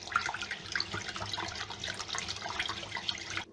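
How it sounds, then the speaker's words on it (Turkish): Bulgur and rice are swished and rubbed in water in a bowl, a close, continuous watery sloshing with grainy rustle that stops abruptly. "bulgurumuzu, pirincimizi kabımıza alıyoruz. Bunu bir güzel yıkıyoruz."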